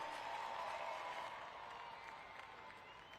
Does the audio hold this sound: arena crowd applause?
yes